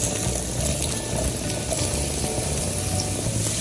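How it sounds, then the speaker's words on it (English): Mushrooms are poured into a soup pot and stirred, giving a busy, close clatter of scraping and rattling that runs steadily without speech. "Now that our 3 minutes have passed, we add our mushrooms."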